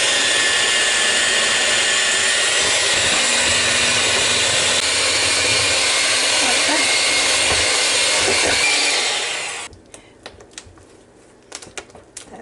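Electric mixer running on medium speed through mandarin orange cake batter: a loud, steady whirring drone that holds for about nine seconds, then cuts off, leaving faint clinks and handling sounds.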